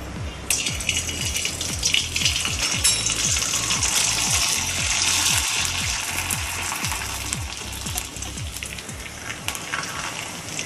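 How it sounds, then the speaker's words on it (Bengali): Homemade sago papads frying one at a time in plenty of hot oil make dense, close crackling and rapid popping bubbles, a continuous loud sputter with no talk. "আমি একটা একটা করে ভেজে নিচ্ছি।"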